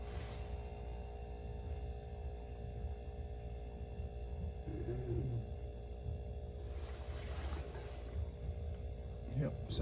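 An RCA 5.1 cubic foot chest freezer that has just been plugged in after a starter relay fix runs with a steady, low electrical hum and compressor drone, constant and unbroken throughout.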